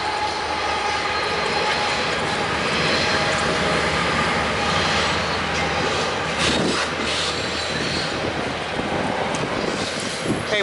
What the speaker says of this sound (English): Hey, westbound CSX is coming.